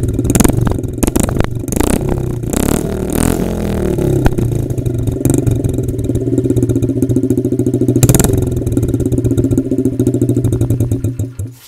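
A Honda dirt bike engine runs with its spark arrester removed, giving a loud, raw, rattling idle with blips of revving and clattery mechanical chatter throughout, close to the microphone.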